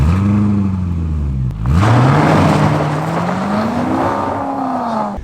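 A Maserati supercar pulls away, its engine revving up in rising pitch, dipping briefly at a gear change, then climbing again, loud and close throughout.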